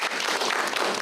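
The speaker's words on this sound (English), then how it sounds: "let's give them a round of applause" A school club's audience claps in a steady, dense round of applause that fills the whole short moment at an even level, with no voices over it.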